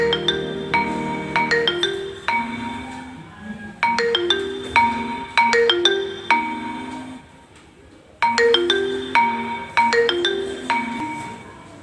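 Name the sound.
phone ringing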